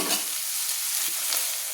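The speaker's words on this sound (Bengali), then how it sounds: "পেঁয়াজগুলোকে আমি ভালো করে মেরে নিচ্ছি লাল লাল করে ভেজে নিচ্ছি" Onions frying in a pan and being stirred with a spoon: a steady close sizzle with the scrape and clatter of stirring, no voices.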